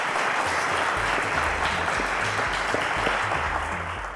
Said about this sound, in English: Ladies and gentlemen, a round of applause to Praise.